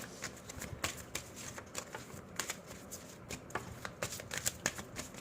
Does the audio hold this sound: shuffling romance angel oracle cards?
yes